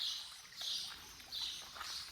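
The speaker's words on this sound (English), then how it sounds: "You can hear the birds." Birds singing in the Patio del Archivo courtyard in Córdoba, faint high chirps repeating in short bursts at a distance, heard alone without talk.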